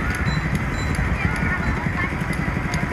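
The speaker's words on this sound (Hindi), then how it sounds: "पता नहीं कहाँ कहाँ से लेके आते हैं बंदे घोड़े" Horses clip-clop along a road amid traffic, a steady patter of hoofbeats under loud road noise and a voice.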